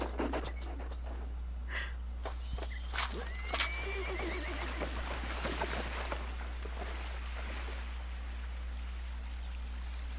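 A horse in an animated medieval fantasy series neighs amid a busy, hissing soundtrack, with clip-clopping hooves and scattered sharp effects, all fairly quiet overall.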